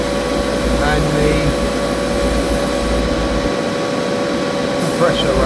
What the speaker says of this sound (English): compressor running.